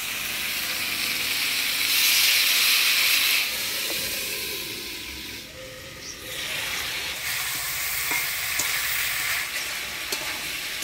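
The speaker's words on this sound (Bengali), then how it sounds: "সবজিটা ঢাকা দিয়ে ভালোভাবে কষিয়ে নিলাম" Spiced vegetables (hyacinth beans with ginger, cumin and chilli paste) sauté under a lid in a pan, giving a steady, close sizzling hiss that swells and fades with occasional stirring scrapes.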